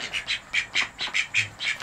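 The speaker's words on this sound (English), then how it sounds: "See, look, even the ducks have started coming to me." Ducks quack in a rapid, rhythmic series of about eight nasal calls, fairly close and alone without talk.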